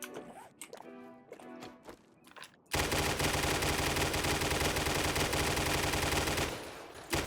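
Rapid automatic gunfire in the video game 7 Days to Die with the Double Tap perk active, a loud, dense continuous burst of shots lasting several seconds after a few quieter clicks and steps.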